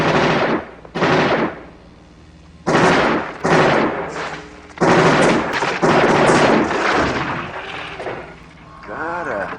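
Gunfire crackles in loud bursts at a shooting range in the RoboCop film, several rapid volleys separated by short pauses, with a voice speaking between and over the shots.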